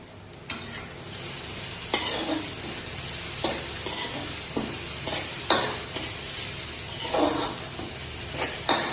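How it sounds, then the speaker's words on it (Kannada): Chopped ginger and garlic frying with onion in a pan for a crab curry, a continuous hissing sizzle with periodic stirring scrapes, close and moderately loud. "ಈಗ ನಾನು ಇದಕ್ಕೆ ಹಾಕ್ತೇನೆ ಶುಂಠಿ ಮತ್ತೆ ಬೆಳ್ಳುಳ್ಳಿಯನ್ನು ಹಾಕ್ತಿದ್ದೇನೆ."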